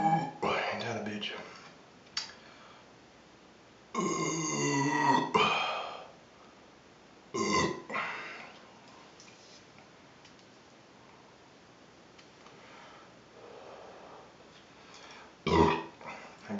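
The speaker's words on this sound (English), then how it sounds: "Spend more time burping than I do drinking." Several loud, drawn-out burps from a man drinking come in bursts, with quieter stretches of him talking in between.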